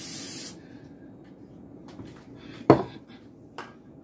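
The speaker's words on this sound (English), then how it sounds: "We're gonna spray the pan." A short burst of cooking spray hisses onto a pan at the start, followed by quiet kitchen rustling and a sharp clatter of a pan being set down.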